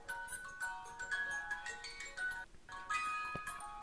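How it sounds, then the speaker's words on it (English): A Mezco Jason-in-a-box toy from Friday the 13th plays its wind-up 'Pop Goes the Weasel' tune, with bright, tinkling music-box notes stepping through the melody alone for several seconds and a faint clicking winding mechanism. "Again, that classic sounding tune, Pop Goes the Weasel."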